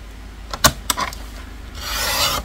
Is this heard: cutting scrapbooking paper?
yes